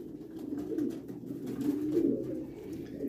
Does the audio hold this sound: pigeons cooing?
yes